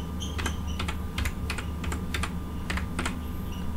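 Someone types a password on a computer keyboard: a quick, uneven run of light key clicks in small bursts, fairly close but quiet.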